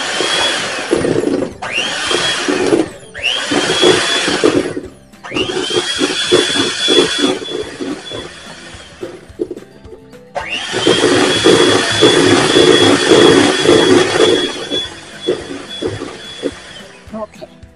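Electric hand mixer whirring through sweet citrus Easter bread dough in a home kitchen, running in loud sustained bursts with brief stops and restarts, its steady motor whine straining against the thick dough.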